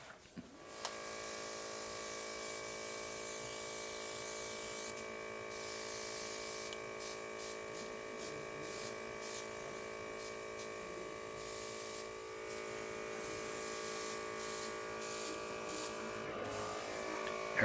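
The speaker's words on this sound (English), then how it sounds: "Airbrushing all the imperfections out." A makeup airbrush hisses steadily close by while spraying makeup onto a face, a constant fine spray with a thin mechanical whine from the compressor running underneath.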